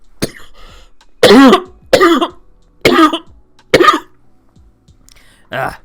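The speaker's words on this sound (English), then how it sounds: "I'm gonna cough." A man coughs several times in short, loud bursts spread out with pauses between them, and there's a throat clear and light breathing near the end.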